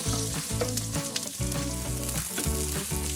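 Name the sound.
onions and garlic sautéing in olive oil and butter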